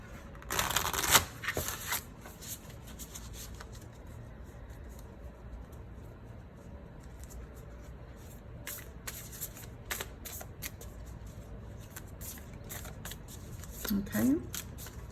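Tarot cards shuffled and handled up close, a sharp papery flurry near the start, then soft scattered card slides and taps spread over a quiet stretch, with a brief squeak near the end.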